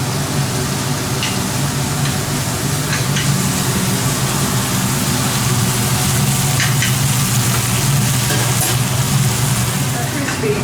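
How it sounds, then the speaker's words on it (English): Bacon browning in a very hot pan, a steady loud sizzle running continuously underneath a low, humming background with occasional crackles and pops. "So I'm just browning off this bacon."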